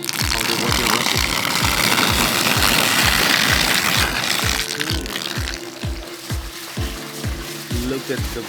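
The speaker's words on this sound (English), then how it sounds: "See how the water rushes." Rainwater pours off a flat roof once the drain is cleared, a broad hissing rush that is strong for the first few seconds and then thins, with a steady rhythmic thumping beat running underneath.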